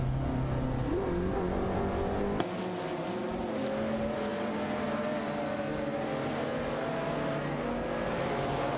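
Lamborghini Diavolo GTR and Ferrari F40 LM race cars in a video game race, engines droning and revving steadily with rising pitch through gear changes, loud and continuous, no talk.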